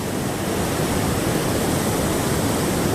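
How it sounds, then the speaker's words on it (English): Constant rushing water from a small waterfall near Grizzly Falls in the Trinity Alps, a loud, even roar close by with no voices. "found us a nice little waterfall. I don't know, it sounds pretty loud"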